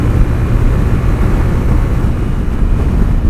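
A new Zontes 350T ADV adventure motorcycle cruises at 70 mph in sixth gear, its engine a constant buzzy drone blended with heavy wind rush, loud and unbroken throughout.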